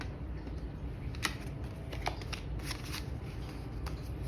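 A tarot card pulled from a deck during a card reading, heard as soft papery shuffles and a few short card snaps close by, rather faint, with no talking.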